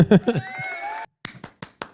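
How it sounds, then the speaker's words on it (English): During a crypto talk show, a voice speaks briefly, then a short pause gives way to four sharp, separate claps, close and crisp, spaced unevenly. "Round of applause for Robin."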